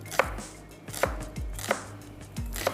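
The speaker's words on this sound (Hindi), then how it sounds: "दरमियाने साइज़ की एक प्याज आपने ले लेनी है, इसको भी हम चॉप कर रहे हैं" A medium-sized onion being chopped with a knife on a board in a home kitchen: four distinct, evenly spaced blade strikes, close and clear, with no talking.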